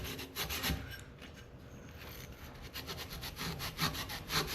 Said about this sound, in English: I can use a little bit more aggressive steel wool on that.